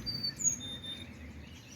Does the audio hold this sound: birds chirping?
yes